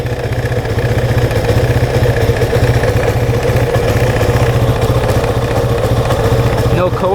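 ATV engine with a choke, idling just after starting, a loud, close, steady chugging putter that holds even throughout.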